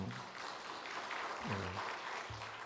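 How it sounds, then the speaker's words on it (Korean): Church congregation at Sunday service clapping to welcome a newcomer, a soft, steady patter of applause with a voice speaking briefly over it. "우리 박수로 환영하겠습니다"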